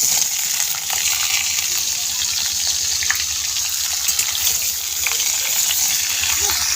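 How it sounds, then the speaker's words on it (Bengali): Vegetables frying in oil seasoned with panch phoron, a loud, continuous hiss and sizzle that stays even from start to finish. "আমাদের সবজি ভাজা হচ্ছে একটু লাল লাল করে ভেজে নেব"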